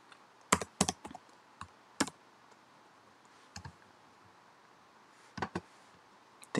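Typing on a computer keyboard, sparse clusters of sharp key clicks separated by pauses, close and fairly quiet over a faint room hiss, with no talk.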